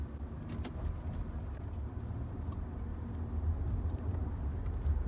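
A manual car cruising in third gear at around 25–35 mph, its engine and road rumble a steady low drone from inside the cabin with no talking.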